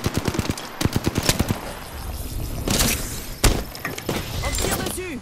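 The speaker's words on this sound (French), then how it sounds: "On tire dessus." Rapid automatic gunfire from the battle royale shooter Apex Legends, a tight burst of sharp shots up front followed by scattered bangs and a heavy thump amid dense game noise.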